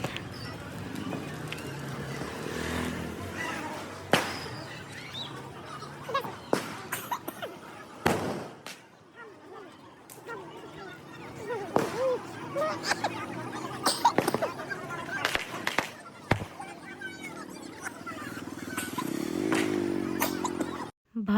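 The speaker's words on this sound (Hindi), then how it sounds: "यहाँ पे सब जने पटाखे फोड़ रहे हैं" At a crowded riverside ghat during Chhath puja, sharp firecracker bangs burst repeatedly at varying distances amid a dense crowd hubbub with voices and talk throughout.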